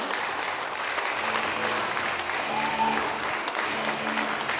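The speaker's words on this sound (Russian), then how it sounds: "Под бурные аплодисменты мы приглашаем на сцену театр «Радость моя»" Steady, dense applause from a theatre audience as a theatre troupe is invited onto the stage, continuous and fairly loud throughout with no pauses.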